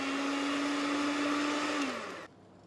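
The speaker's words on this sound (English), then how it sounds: "Beat to mix everything together." Electric mixer beating cookie dough for jam-filled cookies, a loud steady motor whine that holds then winds down and cuts off near the end, close up and alone.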